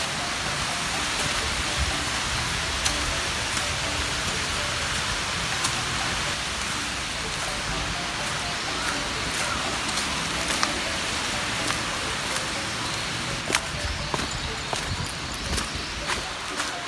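Steady broadband rush of a mountain stream swollen after rain on Mt. Maya near Kobe, constant and fairly close, with a few faint footsteps and knocks over the continuous flow.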